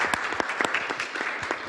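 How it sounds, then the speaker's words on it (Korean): A conference audience at the 2022 Jeju Forum applauds to welcome a speaker, a brief burst of dense, steady clapping filling the hall. "큰 박수로 환영해 주시기 바랍니다."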